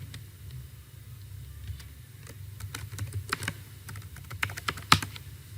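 Fingers type a username and password on a computer keyboard, a run of close, crisp key clicks that starts sparse and quickens into a busier burst, with a faint low hum underneath.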